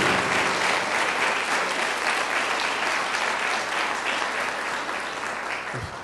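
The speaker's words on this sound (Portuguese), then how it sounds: "Pode aplaudir mais forte o nome do Senhor Jesus." A church congregation applauds loudly for the name of Jesus, a dense, continuous wash of clapping from many hands that holds steady and tapers slightly near the end.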